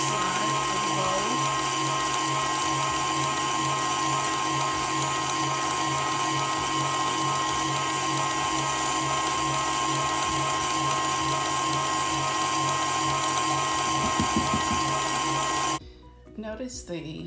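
A steady high-pitched whine from an electric egg beater whipping egg whites for a zero-carb angel food cake, loud and continuous for most of the clip before cutting off near the end, with a person talking over it.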